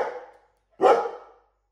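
A dog gives two sharp barks at close range, the second louder, with a short silent gap between them and no talking.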